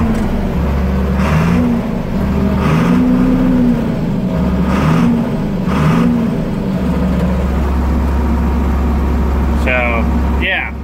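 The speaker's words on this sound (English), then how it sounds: "The motor in this tractor was always a great motor." A John Deere 4630 tractor engine idles steadily close by, with its revs rising and falling in several bursts, and a person talks over the low mechanical drone.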